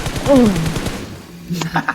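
Gunfire in the battle game PUBG sounds as a few sharp cracks and a short burst amid game noise, with a voice partly over the shots.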